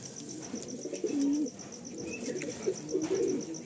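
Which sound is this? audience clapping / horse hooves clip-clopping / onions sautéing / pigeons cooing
pigeons cooing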